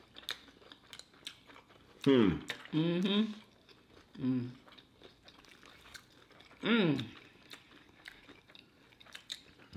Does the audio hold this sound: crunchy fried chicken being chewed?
yes